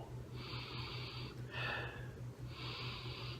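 Three sniffs at a glass of Deschutes Brewery The Abyss 2016 Reserve imperial stout, close to the microphone: short airy inhalations with a pause between, over a low steady hum, no talking.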